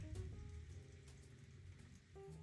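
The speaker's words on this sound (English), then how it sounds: "it's raining incessantly over at my background" Steady, soft rain falls without pause, a faint continuous hiss with a few low tonal hums beneath and no voices.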